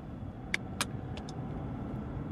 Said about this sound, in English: Driving home.